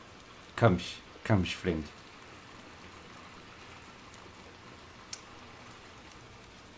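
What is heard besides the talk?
rain in the video game Little Nightmares 2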